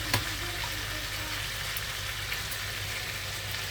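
Tomatoes cook in a hot pan for a Ramadan first-day meal, with a steady dense sizzle and frying hiss throughout and a faint tap near the start.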